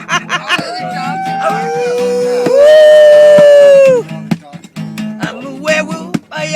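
A man imitates a werewolf howl with his voice: a long, loud, rising and sustained vocal wail in the middle, framed by shorter whoops and breathy laughing noises.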